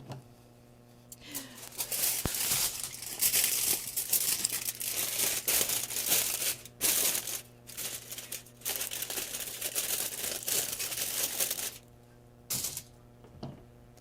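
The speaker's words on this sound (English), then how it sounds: "I'm going to use my scissors to cut smaller pieces of the aluminum foil" Aluminum foil crinkles and crackles almost continuously while scissors cut it into smaller pieces for lining a cardboard box, close and fairly loud, with a few brief pauses and a steady low hum underneath.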